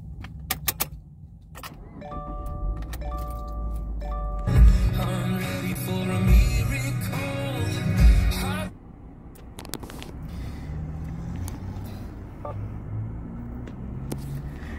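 A 2019 Subaru Outback 2.5i Premium is started with a traditional key: keys jangle and the starter cranks with a loud burst, then the engine settles into a steady, low idle inside the car.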